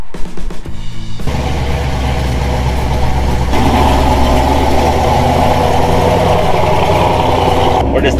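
A square-body truck engine drones steadily as it eases up a trail in four-wheel drive, running loud and continuous after some brief rattling at the start.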